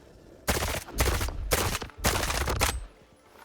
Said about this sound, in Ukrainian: обично цим калашом я стріляв лише одиночними